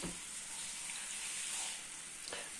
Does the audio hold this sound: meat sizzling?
yes